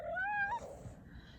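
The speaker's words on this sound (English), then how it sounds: "Oh, and here's the cat." A house cat named Mushy lets out a single short, rising meow close by, followed by quiet room noise.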